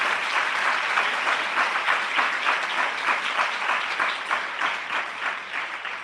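Loud, sustained applause from a church congregation fills the room, with dense clapping and no voices over it, thanking God during a Christian testimony service.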